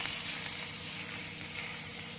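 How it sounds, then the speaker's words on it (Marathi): A fish fries in hot oil in a pan, making a loud, steady, even sizzle with no breaks. "या तेलामध्ये आपण आता हा मासा फ्राय करून घेणार आहोत"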